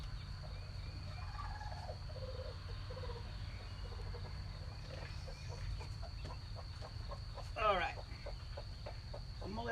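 Broody hen lifted off her eggs gives low, soft clucks close up, breaking into a sharper squawking burst near the end, with a steady electrical hum behind and someone speaking briefly.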